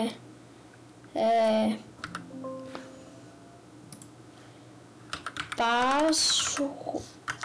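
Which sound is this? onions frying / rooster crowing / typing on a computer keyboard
typing on a computer keyboard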